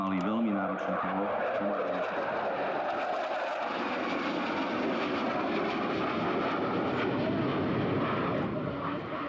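A Polish Air Force MiG-29 jet roars steadily through a slow roll at an air show display, a loud continuous engine rumble and whoosh filling the whole stretch while a commentator talks over it.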